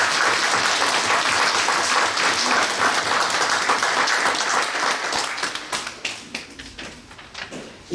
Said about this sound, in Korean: 우리 큰 박수로 하겠습니다.